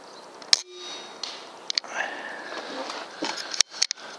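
A Benjamin Discovery air rifle fires a pellet at a target 30 yards away. A sharp snapping crack is followed by a few more quick, distinct pops against quiet outdoor background noise.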